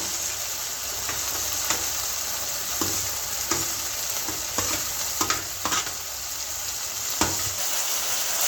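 Mutton liver frying in spiced oil for a Bengali liver curry, with a steady loud sizzle and repeated sharp scrapes of a spatula stirring the pan at irregular intervals.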